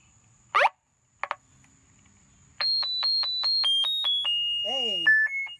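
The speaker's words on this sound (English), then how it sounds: "Like, there's alarms." A couple of sharp knocks, then a loud intercom alarm in a house sounding in a rapid series of electronic beeps that shift pitch toward the end.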